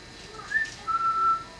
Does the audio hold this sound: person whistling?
yes